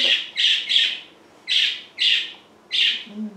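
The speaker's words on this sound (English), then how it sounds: "Parakeet." A parakeet gives a run of loud, close, harsh chirping calls, bursts in pairs and singles with short gaps between, with faint room noise underneath.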